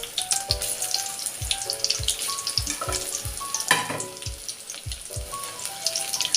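Bonda snacks frying in hot oil on a simmering stove, a steady crackling sizzle with repeated low knocks and clatters of utensils over the bubbling, close and fairly loud throughout.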